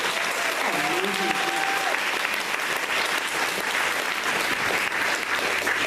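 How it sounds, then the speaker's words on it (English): Applause fills a large event hall at a fitness company's gathering, with a dense, steady clatter of many clapping hands sustained throughout and a voice briefly audible near the start. "give him another round of applause"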